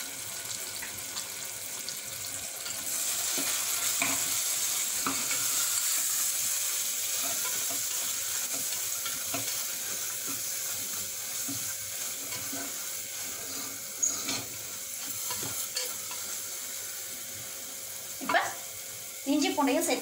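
Turmeric, coriander and chili powders fry in a pan with softened tomatoes for mutton kuzhambu, producing a steady sizzle with occasional stirring clinks, and a voice speaks intermittently.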